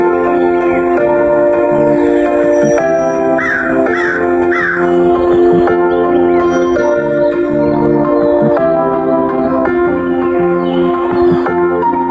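Several crows caw loudly and repeatedly, their harsh calls layered over a continuous backing of music.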